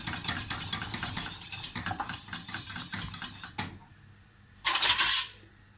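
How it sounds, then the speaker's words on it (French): Whisking cold butter pieces into a sorrel sauce for salmon: rapid, busy scraping and clinking of a whisk in a pan, close and steady for several seconds, then a pause and a short, brighter burst of whisking near the end. "je vais l'incorporer et fouetter au fur et à mesure qu'il s'incorpore à la sauce"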